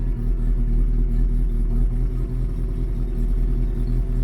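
A turbocharged Tofaş Doğan car engine idles steadily up close, a loud continuous low rumble with a slightly uneven, pulsing rhythm and no talk over it.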